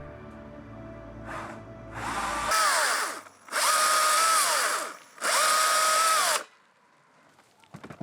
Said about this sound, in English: Your chainsaw sounds like a toy.